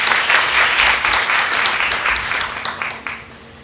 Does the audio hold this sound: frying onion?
no